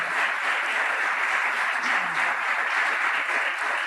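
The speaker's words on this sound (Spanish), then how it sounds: "Le invito a que usted le dé un aplauso de bienvenida" A church congregation gives a welcoming round of applause. Thick, even clapping carries steadily for about four seconds with no pauses.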